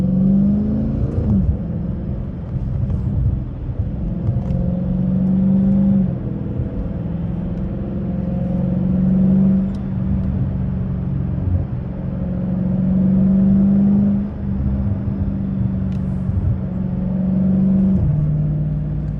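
Dodge Challenger Scat Pack V8 rumbling and revving during a night drive, heard from inside the cabin as a steady loud low drone with rising and falling engine pitch throughout.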